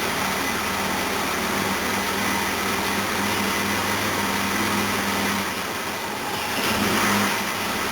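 A Jaguar XJ6 engine idles steadily from a dead-cold start with no choke, a continuous close, even engine drone holding for the whole stretch with a slight swell near the end.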